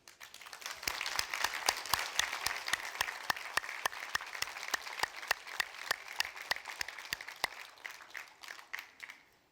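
A graduation ceremony audience at Victoria University claps in a sustained round of applause, many hands beating densely and evenly, swelling quickly and then thinning out toward the end.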